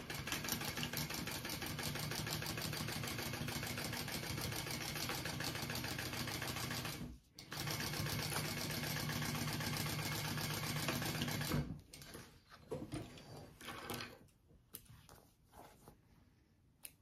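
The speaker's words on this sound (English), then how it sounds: "we're gonna sew that at the seam allowance" A sewing machine stitches a bag seam at the seam allowance in a long, steady, close run. It pauses briefly once, runs again, then stops, leaving scattered handling clicks.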